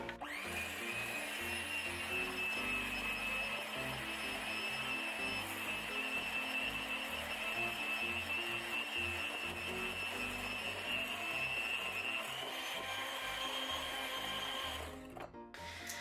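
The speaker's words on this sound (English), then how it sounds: "And now we're gonna whisk again." Cloud bread mixture with cornstarch added is whisked in one steady, unbroken run, a continuous close whirring churn that holds even for about fifteen seconds, then cuts out briefly near the end.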